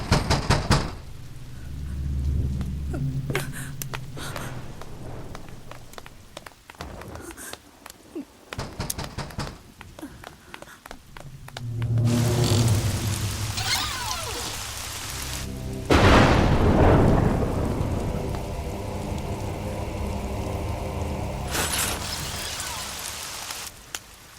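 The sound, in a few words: heavy rain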